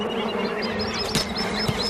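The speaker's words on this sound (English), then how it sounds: "In heat like this, the bees need water too." Bees buzz steadily around a water pool in hot weather, a dense continuous drone with individual insects swelling louder as they pass close, and no voices.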